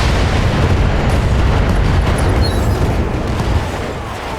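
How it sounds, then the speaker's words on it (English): Missile barrage in the BattleTech video game: a loud, continuous roll of overlapping explosions and booms, dense and rumbling throughout, easing slightly toward the end. "There's no way he's going to survive this barrage of missiles."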